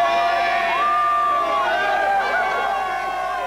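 A huge crowd of about 500,000 lines a team's victory route into a city centre. Their cheering and whooping form a dense, continuous roar, with whistles and shouts rising above it throughout.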